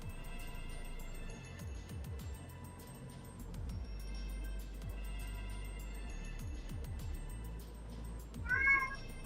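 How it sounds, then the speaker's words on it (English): Indoors, a domestic cat lets out a short, rising meow near the end, fairly close and clear, over a steady low hum and faint background music with no talking. "Yep, you're a cat. You're a cat. You're still a cat."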